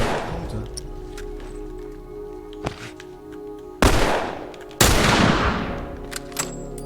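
Gunfire rattles through a match of the video game The Last of Us Remastered, with a single sharp shot followed by two loud, sustained automatic bursts over a constant game soundtrack.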